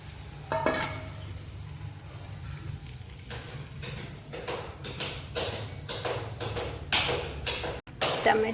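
Watered-down masala hits hot tempering oil for stuffed bitter gourd curry, giving soft, faint sizzling with repeated bursts of hiss and spatter alongside light stirring scrapes.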